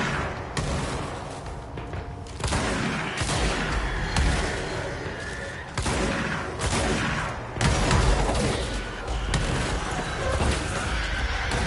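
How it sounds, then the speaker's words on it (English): Enemies blow up in the video game Control amid heavy gunfire, a dense, loud barrage of blasts, crashes and shots that keeps going throughout with only brief dips. "Those ones explode."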